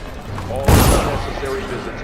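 Gunners firing in the video game Dishonored, a single loud burst of gunfire with a short rumbling tail in a brief moment, under a talking voice.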